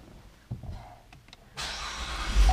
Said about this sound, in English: Push button start.